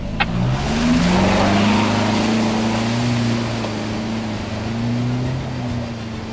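A big 79 series four-wheel drive towing a trailer along a tough coastal bush track makes a steady, loud engine drone that rises and wavers in pitch as it works through, with a faint rushing background and no talk.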